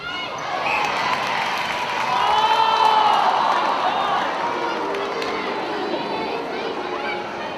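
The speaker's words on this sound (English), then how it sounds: "Some boos coming from the crowd." Very vocal crowd booing at the 2016 Nine News Netball Cup grand final between Contax and Matrics, a steady swelling roar of voices rising around the middle and holding loud throughout, with a commentator talking over it.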